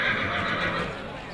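A horse walking in a sale ring at a horse auction, its movement heard within a loud, steady wash of hall noise that stays level throughout.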